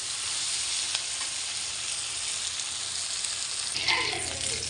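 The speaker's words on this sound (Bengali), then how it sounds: "আলু বেগুনটা দিয়ে দিলাম, দিয়ে আমি হলুদ আর লবণ দিয়ে দিলাম। এখন ভালোভাবে ভেজে নেব।" Potato and eggplant seasoned with turmeric and salt sizzle steadily in a pan, a loud, continuous frying hiss with a brief stir or scrape near the end.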